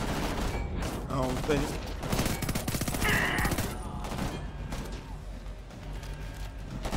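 Gunfire rattles in Homefront The Revolution as shots are fired at a wire mesh barrier, with bursts of rapid reports and sharp cracks while someone talks over the shooting.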